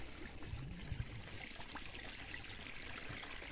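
Water runs out of an opened earthen pond dam as a small stream, a quiet steady trickle and gurgle close by, with a few low knocks near the start and no voices.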